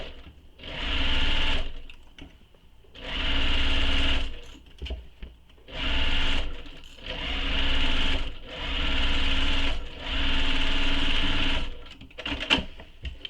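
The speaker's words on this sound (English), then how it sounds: "So now I'm going to sew this in place" A sewing machine basts a tote's zipper panel to its lining in five close, steady whirring bursts of about one to two seconds each, with quiet handling pauses between them.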